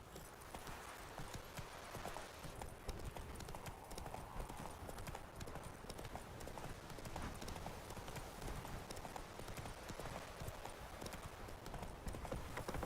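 Horse galloping in the video game The Witcher 3, with fast, rhythmic hoofbeats that continue steadily throughout at a quiet, even level.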